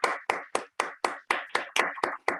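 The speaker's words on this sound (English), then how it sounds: "So let's all cheer for essential workers." Ten sharp claps ring out in an even, quick rhythm, close and crisp, like one person clapping in cheer for essential workers.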